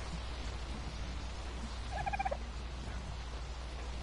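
A turkey-like gobbling bird call in a video game, one short warbling burst near the middle, faint over a low steady background rumble.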